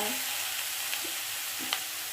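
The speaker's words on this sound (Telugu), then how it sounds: "ఇవన్నీ ఒకసారి తాలింపులు మొత్తం కలిపేటట్టుగా కలబెట్టండి" Tempering with tomato pieces is stirred in a hot pan, making a dense continuous sizzle with a couple of faint spoon knocks, close and without speech.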